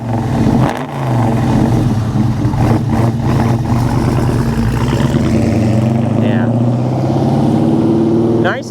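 A 1973 Plymouth Duster runs loud and close by a river, its engine holding a strong, steady rumble with rising and falling pitch as it moves, while a person speaks briefly.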